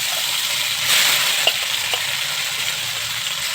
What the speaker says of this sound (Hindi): हल्का से जब मशरूम फ्राई हो जाएगी